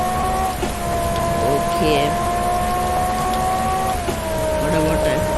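Rain falls in an ITA V racing video game as a constant wet hiss under a droning engine tone, with someone talking over it.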